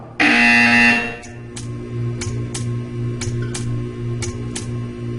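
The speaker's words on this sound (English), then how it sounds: "You will hear a buzzer." A loud harsh buzzer sounds in the Portal 2 video game, starting abruptly and holding for under a second, then giving way to a low hum with a series of sharp ticking clicks.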